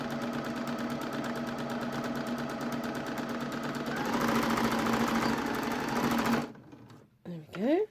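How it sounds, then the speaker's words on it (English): Near and loud, a sewing machine stitches a seam on doll jeans in a fast steady hammering whir, back tacking before it stops, then a voice speaks briefly. "So I generally back tack whenever I am sewing."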